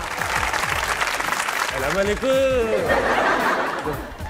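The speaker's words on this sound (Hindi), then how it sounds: "जोर की तालियां होनी चाहिए" A studio audience at a Pakistani comedy talk show applauds with loud, dense clapping, mixed with chuckles and a brief rising voice in the middle.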